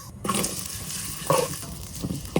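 Chopped onions frying in soybean oil for beresta, crisp sizzling with occasional stirring scrapes in the pan, close and steady, no voices.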